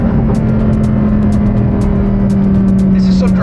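A Lamborghini STO with a naturally aspirated V12 accelerates loudly, a strong sustained engine roar with a rising tonal drone heard from close inside, continuous for a few seconds.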